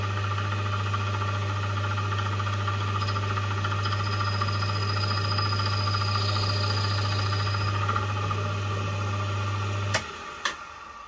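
A milling machine spins a cutter in the valve seat of a steam engine whistle valve, giving a loud, steady hum for about ten seconds before it stops with a couple of sharp clicks.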